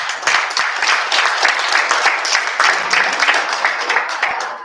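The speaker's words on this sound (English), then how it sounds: "Clap your hands." An audience at an NFB Idaho convention session claps its hands in a loud, dense burst of applause that swells and then tapers off.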